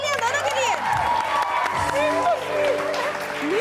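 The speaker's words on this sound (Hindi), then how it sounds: "बहुत सारी तालियां दोनों के लिए" Studio audience on the TV show Satrangi clapping and cheering for two guests called up, with whoops and shouting voices rising over continuous close applause.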